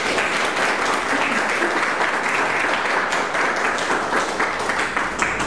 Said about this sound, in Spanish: Gracias, Elvira, un aplauso para ella.